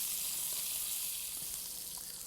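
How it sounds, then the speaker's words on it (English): Duck breasts frying in a pan give off a steady, fairly quiet hiss of sizzling fat, even and continuous from start to finish, with no voices. "So they're sizzling, they're smelling wonderful"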